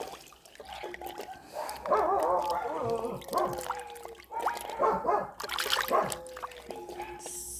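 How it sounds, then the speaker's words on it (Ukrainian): Dogs bark repeatedly at a distance over a steady trickle and splash of water, with some background clatter, during home canning of tomatoes. "Що ці собаки гавкають?"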